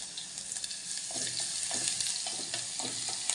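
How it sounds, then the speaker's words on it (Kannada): Mustard seeds, curry leaves and garlic paste sizzle in hot oil, tempered for a rasam. The frying crackles loud, close and continuous, with small pops throughout and no talking. "ಈಗ ಒಗ್ಗರಣೆಗೆ ಸಾಸಿವೆ, ಕರಿಬೇವು, ಕರಿಬೇವು ಆದಮೇಲೆ ಪೇಸ್ಟ್ ಮಾಡಿ ಇಟ್ಕೊಂಡಿರುವ ಬೆಳ್ಳುಳ್ಳಿ."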